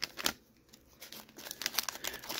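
A 1987 Topps jumbo baseball card pack wrapper is torn open up close, with sharp crinkling bursts at the start and then a stretch of quieter, rapid crackling of the foil-like wrapper.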